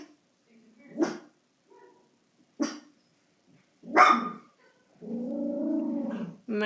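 A dog barks in short sharp bursts, three separated barks, then breaks into a sustained low growl, fairly close in an otherwise quiet indoor room with no talking.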